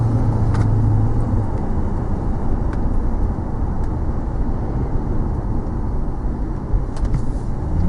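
A Ford Fairlane G220 with a 5.4 Triton V8 drives along a road, with a steady, dense engine and road rumble heard from inside the car, sounding continuously at an even level.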